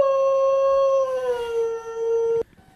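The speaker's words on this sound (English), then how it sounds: "if you listen close, you can hear the howl that she's singing along with" A dog howls in one long, loud, sustained wavering note that slowly dips in pitch, singing along with a monthly Saturday tornado warning siren, then cuts off abruptly.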